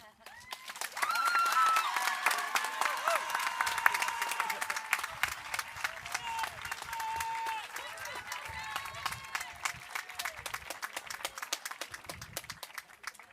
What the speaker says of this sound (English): one more round of applause for our student speakers